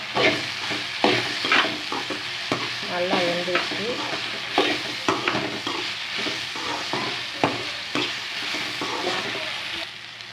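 Okra stirred and fried with chili powder in a pan for a Tamil vendakkai poriyal, a continuous close sizzle broken by repeated scraping stir strokes, with no talking.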